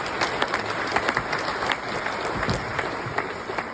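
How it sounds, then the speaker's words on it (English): Audience applause at a Memphis Music Hall of Fame induction ceremony, steady clapping from a crowd with a few sharper claps standing out. "You can go ahead and applaud for that."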